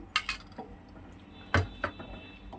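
A spoon clinks and scrapes against a metal pot as sugar and custard mixture is stirred, giving a few sharp knocks spread irregularly over a quiet background.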